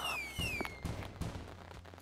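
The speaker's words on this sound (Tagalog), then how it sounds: "Na sila, nagpuputukan ng fireworks." Fireworks going off in the Roblox game Grow a Garden: a rising whistle followed by several soft bursts and crackles in a spaced rhythm, fairly faint with no talking.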